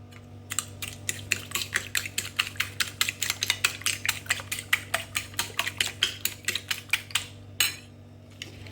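Eggs whisked with milk and a little sugar in a bowl, a steady run of quick rhythmic clicks of the whisk against the bowl over a constant background hum.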